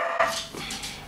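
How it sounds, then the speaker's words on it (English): A pet dog, startled by a mailman, gives one short indoor bark followed by a brief whimpering yip, fairly close but at modest volume. "Sorry, that was my dog."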